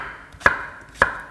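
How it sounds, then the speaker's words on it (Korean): A knife cuts through peeled pear for summer kimchi, two crisp, close chops about half a second apart on a cutting board, with no talking. "그래서 배는 이렇게 썰어서 같이 갈 거예요"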